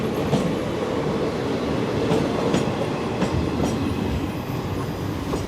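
16344 Amrita Express train running on rails between Palakkad Town and Thiruvananthapuram, a steady close rumble with faint repeated clicks of wheels over rail joints, continuous and unbroken.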